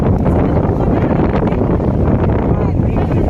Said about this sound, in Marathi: आणि जोरात वारा देखील सुटलेला आहे